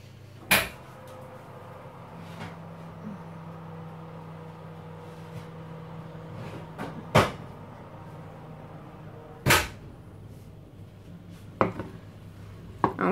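An oven door opens and closes in a home kitchen as freshly baked oat bread is taken out, giving a few sharp clunks and knocks spread across the stretch over a steady low hum, with no talking.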